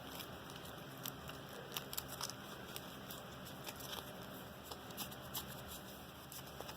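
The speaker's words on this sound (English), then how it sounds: "So we're going to shuffle it back up." Trading cards for a Yu-Gi-Oh Raidraptor deck riffle and shuffle close up in a quick, crisp patter of flicking sounds, repeated steadily for several seconds with no talking.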